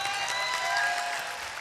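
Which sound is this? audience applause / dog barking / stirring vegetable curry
audience applause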